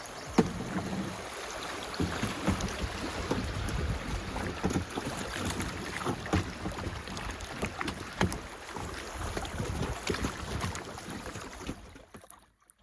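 A kayak moves along a waterway toward a bridge, with continuous splashy water noise, paddle strokes and some wind buffeting the microphone, all close and steady for most of the stretch before it cuts off near the end.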